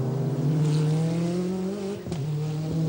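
A Porsche 911 RSR race car at the 1995 Le Mans 24 Hours roars loudly and steadily close by, its engine note holding strong with a brief dip midway.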